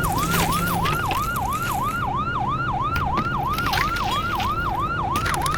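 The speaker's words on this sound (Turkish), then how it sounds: "sireni aç düzgün gitsene ya" An ambulance siren in the virtual-reality game Surgeon Simulator VR wails in a fast, continuous up-and-down yelp, loud and steady throughout over a rumbling engine-like background with no pauses.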